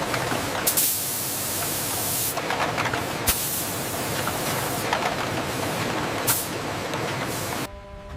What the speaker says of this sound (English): A specialized applicator sprays a clear coat, and the cans are flipped momentarily.